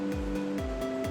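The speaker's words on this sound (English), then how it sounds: "We have another waterfall." A waterfall rushes in a continuous, loud, even roar of falling water that fills the scene without any break.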